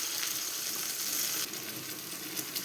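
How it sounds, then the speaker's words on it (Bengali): Mustard paste for a Bengali hilsa curry hits a hot pan, giving a steady, close sizzle and fry hiss that dips slightly partway through, with no voices. "এই সর্ষের সেই পেস্টটা দিয়ে দেব"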